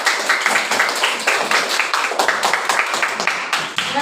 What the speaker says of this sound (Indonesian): Ya, kita tepuk tangan sekali lagi